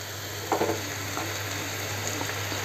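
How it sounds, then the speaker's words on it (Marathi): Asafoetida frying in hot oil for a cabbage masala dish, a steady low sizzle with a brief crackle and a spoon stirring in the pan near the start. "तो चांगला तेलात आपण परतून घ्या हिंग।"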